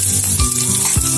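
Mustard seeds, cumin, curry leaves, turmeric and chopped onion frying in oil in a pan on a gas stove make a loud, close sizzle with quick scraping stirs.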